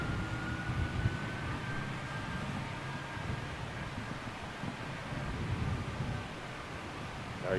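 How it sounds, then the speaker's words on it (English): An Emirates A380 airliner approaches from a distance, a faint, steady low roar with a thin whine and wind noise over the microphone, growing slightly toward the end. "Emirates 380 inbound, imminent."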